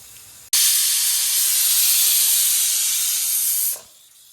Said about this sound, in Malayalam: കുക്കറിൽ നമ്മൾ നേരത്തെ ഇട്ട സാധനങ്ങളെല്ലാം കൂടെ ഇപ്പോൾ വിസിൽ അടിക്കുന്നു കേട്ടോ